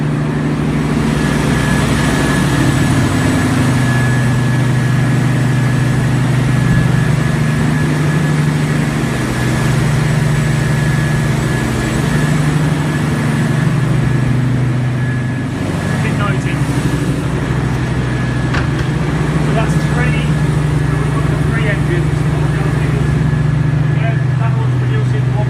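A 1.5 megawatt power plant generator engine runs at a loud, constant low drone with a steady tonal hum, filling the whole stretch without pause, while someone talks over it.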